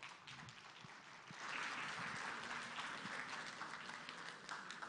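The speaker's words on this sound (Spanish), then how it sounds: "con un fuerte aplauso a Fabiola Yechting," Applause from an audience at a public forum in Tacna welcoming a speaker to the stage: a dense, even patter of many hands that swells slightly partway through and holds steady, heard from a moderate distance.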